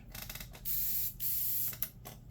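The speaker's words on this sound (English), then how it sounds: "immediately I dump out any paint in my airbrush" Airbrush emptying leftover paint in two loud hissing bursts of about half a second each, with softer clicks and short sputters between them, close and clear in a quiet room.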